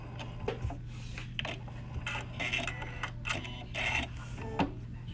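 A sewing machine runs tack stitches back and forth on a fabric facemask, giving short, uneven bursts of mechanical clatter and whirring separated by brief pauses, fairly quiet and close.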